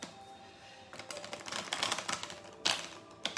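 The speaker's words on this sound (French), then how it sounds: "Je vais les remélanger correctement" Tarot cards being shuffled by hand, a deck of 77 cards riffled and mixed in a steady papery rustle with several sharper flurries and a burst near the end, close and fairly quiet, no talking.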